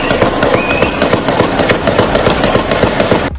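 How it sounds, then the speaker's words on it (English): Rapid, loud gunfire at a parade shooting in a town north of Chicago: a dense, continuous volley of sharp cracks in quick succession over crowd noise, with no speech. "Gunshots, sounds of mass panic, and another round of gunfire."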